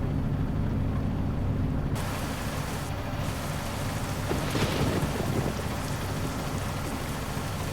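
Steady heavy rain and rolling thunder from the game American Truck Simulator fill the whole stretch, a dense wash of rainfall under deep rumbles, with no voices.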